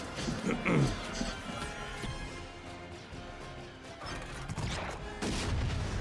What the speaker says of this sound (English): Already a blaster fight with explosions and pirates